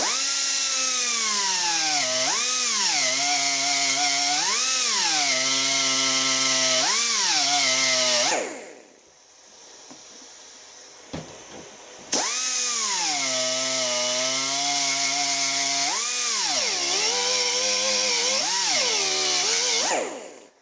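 Carbide burr grinding stainless steel, a loud high-pitched whine rising and falling as the cutter bites, running for about eight seconds, a short pause with small knocks, then grinding again to the end.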